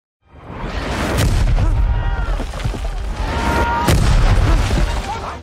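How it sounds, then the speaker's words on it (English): Mortar fire in the First World War film All Quiet on the Western Front comes as heavy booms and rumbling blasts over a continuous din, loud and close, with a reacting voice speaking over it. "So what's that considered, mortar fire?"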